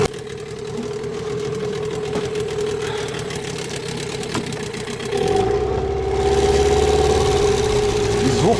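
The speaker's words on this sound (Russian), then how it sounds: "Звук мотора нравится" A Mikatsu 9.8 outboard motor on a new boat runs with a steady droning hum and rapid mechanical chatter, its pitch rising as it revs up partway through, close and continuous without talk.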